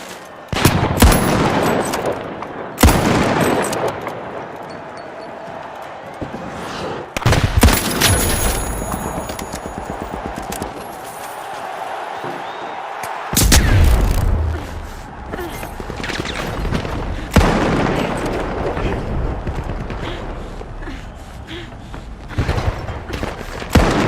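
A flashbang grenade and gunfire in the video game The Finals: bursts of rapid shots and sharp bangs separated by brief lulls, loud and close, with a little speech mixed in.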